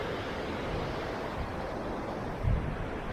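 Rushing water from a mountain torrent in the Isère mountains near the Quirlies glacier, a steady broadband roar filling the whole clip with one brief louder swell near the end.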